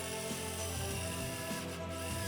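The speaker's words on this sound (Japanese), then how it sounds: "下穴を開けずにドリルしましたが、ちゃんと穴は開きました。" An electric drill mounted in a drill stand whirs steadily at high speed, a continuous motor whine as the bit bores a bolt hole without a pilot hole, with no pauses.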